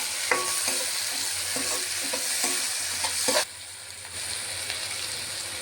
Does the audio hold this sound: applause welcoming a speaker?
no